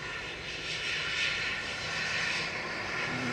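Embraer Phenom business jet engine noise near Manchester Airport, a steady broadband roar with a high-pitched whine running through it, moderately loud and unbroken with no voices.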